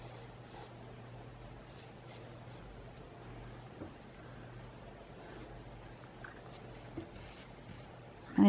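A pencil draws guide lines on paper for a tangle pattern, making a soft, faint, continuous scratch over a low steady hum, with a few light taps and a louder knock at the very end.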